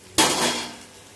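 A lid goes onto a cooking pot of simmering semiya, one sharp metallic clank followed by a brief ringing decay, close and loud.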